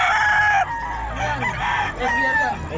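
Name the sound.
gamecock rooster crowing, SBR cross of Boston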